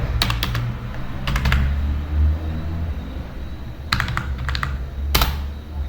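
Computer keyboard typing C code: short bursts of quick key clicks separated by pauses, close and clear over a low steady room rumble, with no talking.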